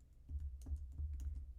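Keys tapped on a computer keyboard while coding, giving a few quick, light clicks over a low steady hum, fairly close and moderately quiet.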